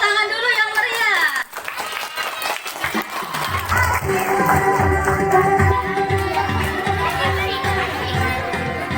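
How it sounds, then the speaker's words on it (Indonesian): Schoolchildren applaud the class 3 performers at a school language performance, building into lively sustained clapping and crowd noise, with a voice and chatter at the start. "Untuk kelas 3 kita beri tepuk tangan dulu yang meriah."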